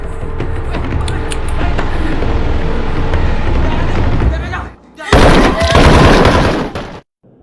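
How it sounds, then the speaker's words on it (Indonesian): Gunfire in an action film, with several sharp shots and bursts sounding amid busy scene noise, followed by a louder, dense stretch of shooting or impacts before the sound abruptly cuts out. "Melihat hal itu, Aileen langsung menembak mereka."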